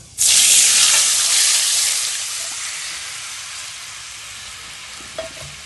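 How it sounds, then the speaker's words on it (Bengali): Tamarind water hits hot oil tempered with five-spice, bursting into a loud, steady sizzle that gradually fades over several seconds, with a faint clink near the end. "ফোড়নটা একটু লাল হয়ে গেলে তেঁতুল চটকানা জলটা দিয়ে দেব"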